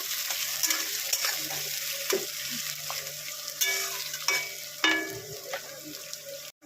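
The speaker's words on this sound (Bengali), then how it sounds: "পেঁয়াজটাকে তেলে ভাজবো" Sliced onions frying in hot oil with chili and bay leaf, stirred in a pan: a continuous close sizzle broken by repeated clattering scrapes and knocks of the spatula, with no one talking.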